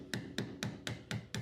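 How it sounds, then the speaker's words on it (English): A hammer taps a pin on a Staccato pistol held in a bench block during a grip kit conversion, six evenly spaced sharp metallic taps, close and fairly quiet. "You'll need a hammer too."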